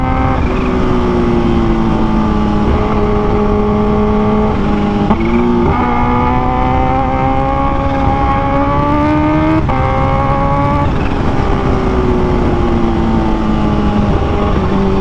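A 2023 Kawasaki H2 Carbon supercharged motorcycle engine holds a loud, steady high-revving drone, its pitch rising and dipping in several surges across the clip, with no voices.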